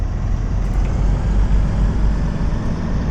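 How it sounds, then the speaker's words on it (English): A Train Sim World 4 train engine in a video game, sounding much like a bus: a steady, loud low rumble that holds without break from start to finish, with no talking. "Wow, it really does sound like a bus"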